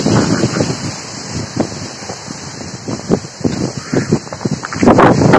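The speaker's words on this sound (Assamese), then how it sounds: "এয়া চাওক বহুত বতাহ দিছে" Strong wind blows outdoors, gusting hard against the microphone in loud, uneven rushes that swell and buffet up close, with stormy weather building.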